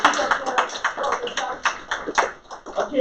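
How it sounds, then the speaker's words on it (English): Children in a kids' class applaud classmate Taylor, a steady patter of small hands clapping close by for a few seconds. "Let's give Taylor a nice big clap."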